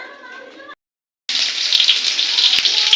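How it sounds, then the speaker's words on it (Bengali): Food frying in a pan for a Bengali home-cooking dish, three pieces at once: a steady loud hiss and sizzle starting after a short silence and running continuously to the end, with a brief quieter sound before the gap. "চলো লাস্টে একবারে তিনটে একসাথে ভেজে নিই"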